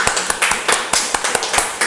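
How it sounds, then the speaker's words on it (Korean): A church congregation claps together at the close of a worship service: a quick, fairly even run of sharp hand claps, close and moderately loud, with no voices over them. "우리 하나님께 감사와 영광의 박수 올립니다."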